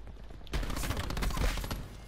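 Rapid bursts of video game gunfire fill a tense shootout, dense and continuous at close range, with a player's voice faintly under the shots.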